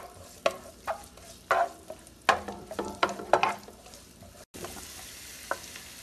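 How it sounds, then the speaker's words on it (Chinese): Scallion whites sizzling and stir-fried in a wok, with repeated sharp clanks and scrapes of a spatula over a steady frying hiss, close and fairly loud. "爆香。"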